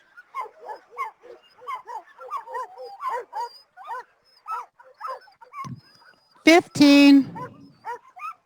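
Sled dog team yelping, whimpering and barking at the start line of the GCI Open North American Championship race, a busy chorus of yips under an announcer's voice, ending in a louder burst of howling near the close.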